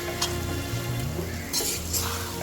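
Coconut leaf pickle sautéing in oil in a pan, a steady close sizzle with occasional stirring scrapes and clinks.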